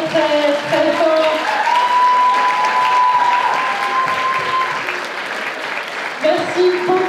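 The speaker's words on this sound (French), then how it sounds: "On peut les applaudir très très très fort." Loud sustained applause from an audience honoring cosplay contestants at a costume parade and awards ceremony at the Japan Impact convention, with some crowd voices and a held musical tone running beneath the clapping.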